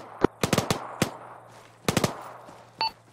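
Enemy gunfire in the military game ArmA 3: two clustered bursts of sharp rifle shots, several quick cracks each, separated by a brief pause and followed by a fainter pop, moderately near and with no talk over them.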